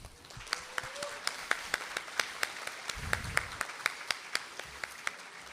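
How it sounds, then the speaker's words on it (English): Sparse, scattered clapping from a small group, with sharp claps repeating irregularly over a low background murmur. "Let's give a big round of applause for Roxana Cochran."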